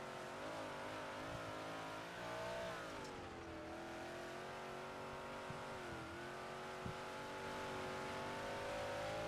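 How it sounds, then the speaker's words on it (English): A race car engine drones steadily, its pitch sliding down and back up as the throttle eases off, heard from inside the car. "Hear him all the way off the throttle."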